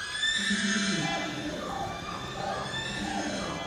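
A person vocally imitates a horse's neigh for a sound-touch painting, giving a drawn-out, wavering whinny with a bright, strained tone. It is fairly close and loud and runs through most of the clip.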